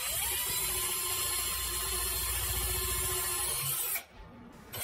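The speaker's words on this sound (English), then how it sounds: "When you're doing this, have the drill run in reverse." A power drill running in reverse through wood on a guitar kit build whirs steadily at close range for about four seconds, then cuts off abruptly, leaving a quieter hum.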